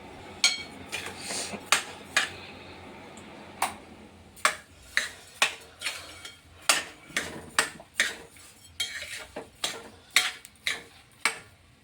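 A spoon stirs sugar into semolina sheera in a metal pan, making sharp, evenly spaced clinks and taps roughly twice a second, close and fairly crisp, with no voices.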